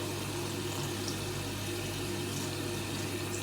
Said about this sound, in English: we will wash the brushes